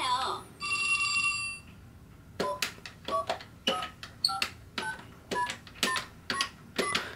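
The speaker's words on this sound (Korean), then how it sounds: "실제 전화기 효과음이 나서 아이들과 함께 즐거운 놀이를 할수 있습니다." A Fisher-Price learning table's toy telephone rings: a bright electronic trill plays alone, then a run of rapid, repeated ring bursts follows in an uneven rhythm, loud and close.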